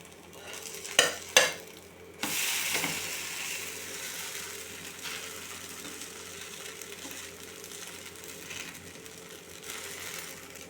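A dosa frying on a hot pan with steady crackling sizzle, opening with two sharp knocks and a scrape as it is flipped, then a continuous fizzing that slowly settles.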